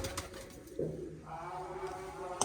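A pigeon gives a soft, low coo, faint and fairly close, over quiet background hiss, from pigeons with chicks in a small coop.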